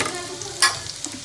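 Onion frying in a pan on a home stove for Maggi noodles, a steady soft sizzle with light stirring and one brief louder scrape partway through, no talking.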